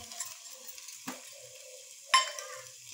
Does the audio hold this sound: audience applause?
no